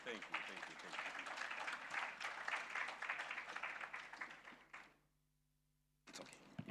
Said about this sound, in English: Kindly, let's give Perina a better round of applause.